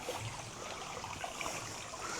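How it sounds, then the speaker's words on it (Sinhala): A small stream flows near a bridge by a picnic area, making a faint, steady trickling and burbling wash with no breaks. "වතුර පාරක් යනවා එතන."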